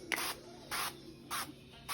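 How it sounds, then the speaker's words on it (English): Three short hissing bursts of avocado oil spray, evenly spaced, close up with quiet pauses between them. "So I'm gonna take a little bit of just avocado oil spray."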